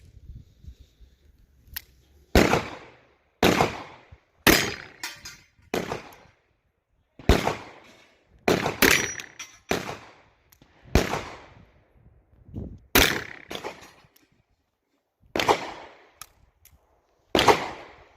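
A 6-inch Taurus Judge revolver firing .410 loads of a slug with two round balls, about a dozen loud, sharp reports spaced a second or two apart with brief echoes and near silence between them.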